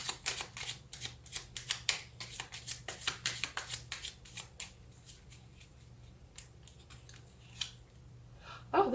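Tarot cards are shuffled and handled up close in a string of crisp, snappy riffles and flicks, dense at first, then sparser, ending in a louder rustle.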